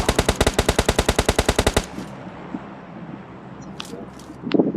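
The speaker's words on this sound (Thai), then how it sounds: "ระยะร้อยเมตร ก็ยิงตายได้" Rapid automatic gunfire from PUBG Mobile Lite, a fast even burst of about fifteen loud shots, followed by quieter in-game ambience and a few faint distant pops.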